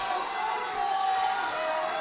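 Crowd noise rising at a high school wrestling match in 2019, a steady broad roar of spectators getting into the bout late in the period, sustained and fairly loud throughout without any distinct voices.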